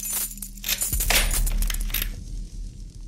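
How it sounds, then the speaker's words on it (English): Keys working a lock and a door opening in the horror game Asylum, heard as a close burst of small metallic clinks and rattles followed by a brief softer tail. "a rather delightful door opening / unlocking a lock sound effect"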